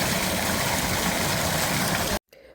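A public water fountain with a statue in a town square in Nîmes, France, gushes in a loud, steady, broadband splash that cuts off abruptly near the end.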